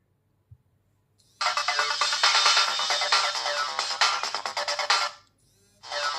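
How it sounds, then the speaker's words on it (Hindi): Boat Wave Arcade smartwatch plays its find-device ringtone, a bright looping electronic melody sounding for several seconds, stopping, then starting again, close and clear with no talk. "आपकी वॉच में बजेगा टोन और आपकी वॉच करेगी वाइब्रेट।"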